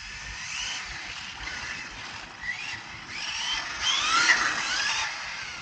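A model aircraft engine (SNRC S86) idles at low throttle, giving a steady whining hum with faint pitch wavers, moderately loud against a low rumbling background.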